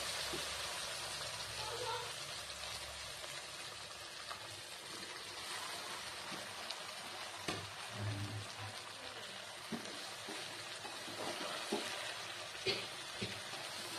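Chowmein noodles fry in a pan with sauce, a steady low sizzle with occasional scraping and stirring clicks throughout.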